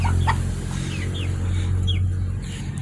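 Chickens cluck in a backyard flock of one rooster and three hens, short bird calls rising over a steady low hum, fairly close.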